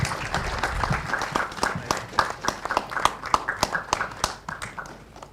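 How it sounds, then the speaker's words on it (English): An audience at an engineering foundation day ceremony claps as guests step onto the stage, with sharp distinct hand claps in a quick, uneven rhythm at moderate volume, loosening and tapering off toward the end. "May we have a huge round of applause."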